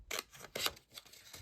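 Scissors snip through cardstock while trimming the corners of a large lidded birthday box, with about four crisp cuts in quick succession, close and fairly quiet.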